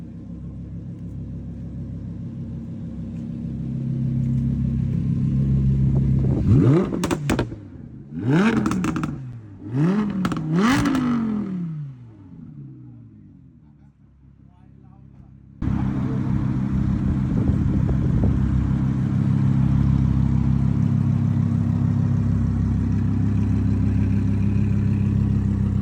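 Audi R8 V10 Plus with a Quicksilver aftermarket exhaust: a loud, rumbling idle breaks into three quick, crackling revs that rise and drop, then falls to a quiet lull before a deep, steady rumble returns up close, with no voices.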